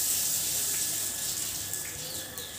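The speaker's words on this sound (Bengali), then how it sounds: "দেখছি মা স্নান করছে" Water runs steadily and fairly close while someone bathes, a constant bright hiss and splash with no talking.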